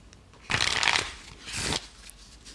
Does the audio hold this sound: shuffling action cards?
yes